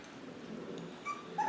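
Puppies give faint, soft whimpers, ending in a couple of high, brief yips close by, with no talk.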